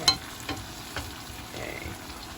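Onion fries in a pan, giving a quiet, steady sizzle with faint stirring scrapes and a light knock at the start, heard close and alone with no talking.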